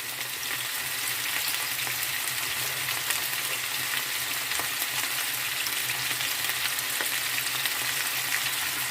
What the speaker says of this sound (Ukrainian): в іншу сковорідку додаємо капусту. І теж хвилинку вона повинна обсмажитись